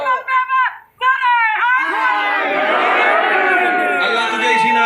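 A voice calls out a line in short bursts, then a large crowd at a Muharram majlis answers with a loud, sustained, many-voiced chant that swells and holds to the end.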